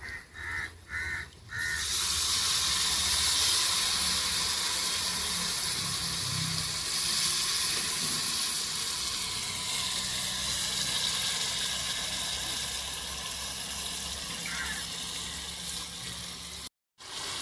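Tamarind juice hits a hot pan already holding chili powder and vegetable pieces in an outdoor home kitchen, bursting into a loud, steady sizzling hiss that holds for over fifteen seconds after a brief clatter at the start.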